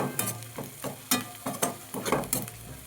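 Onions roasting in a pan for egg kurma give a low steady sizzle, and a spoon scrapes and stirs through it in repeated short strokes, close and fairly quiet with no voices.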